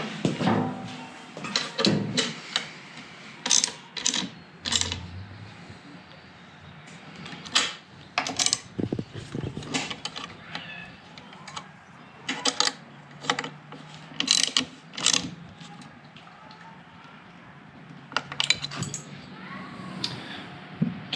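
A ratchet wrench tightens a nut on a 2020 KTM XABR rack system, giving repeated bursts of sharp metallic clicking with short pauses between strokes, close up and without talk.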